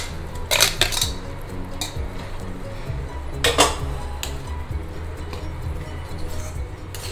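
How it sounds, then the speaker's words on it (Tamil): Vermicelli stirred into boiling sambar in a cooking pot, with a few bright clinks of a spoon against the metal rim over a low bubbling background and no talking. "இப்போ சேமியாவை போட்டு மிக்ஸ் பண்ணிடலாம்."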